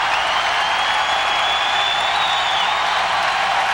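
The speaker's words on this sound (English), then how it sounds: "Listen to this crowd. It's wonderful." Hockey arena crowd at a minor league celebration night cheering and applauding, a loud, continuous wash of massed noise with a faint whistle-like tone running through it.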